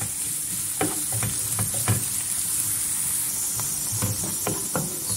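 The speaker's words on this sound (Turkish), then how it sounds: "Yemeklik olarak doğramış olduğum bir tane soğan ilave ediyorum. Ve soğanları güzelce" Chopped onion sautéing in oil in a frying pan for a Turkish soup, a steady soft sizzle with occasional stirring clicks and scrapes, close and alone with no talking.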